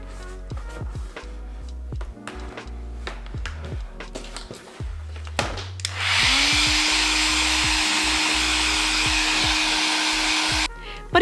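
A heat gun blows steadily for several seconds, smoothing the foam joints of a cosplay bee stinger for a Honey Bee Inn Tifa costume; a sustained loud whooshing drone follows some earlier tapping and handling sounds.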